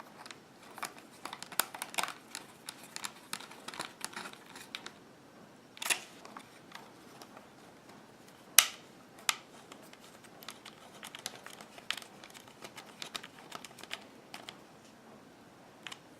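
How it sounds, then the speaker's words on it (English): Small screws are fitted back into the casing of an Amazon Kindle 2 D00701 e-book reader. Faint, scattered ticks and clicks come from the screwdriver and plastic parts, with a few sharper snaps in a quiet room. "now I'm going to replace the screws."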